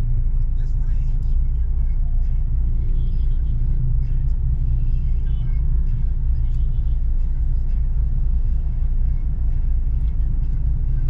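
Rush-hour street traffic outside Metrogate in Angeles, Philippines, forms a steady, heavy low rumble of cars and buses passing close by, with people talking over it throughout.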